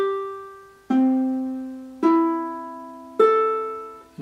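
Four ukulele strings plucked one after another to check tuning, each note ringing clearly and decaying before the next, at a steady, unhurried pace with no talking.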